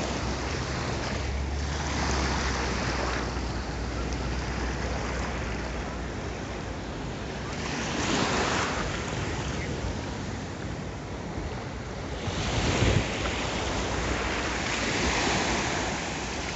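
Steady roar of ocean surf at Waikiki Beach, Hawaii, with waves swelling and breaking every few seconds, mixed with some wind rush; no voices.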